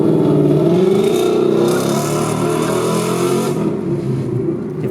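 An S550 Ford Mustang with an X-pipe exhaust gives a loud, close, raspy engine note that rises through a rev and then settles into a steady drone, with no talking.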